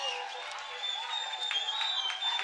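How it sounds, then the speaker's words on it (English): A baseball crowd at a night game roars and cheers in a steady, distant wash, with faint cheering swells and scattered clapping. "the enthusiastic crowd roars on"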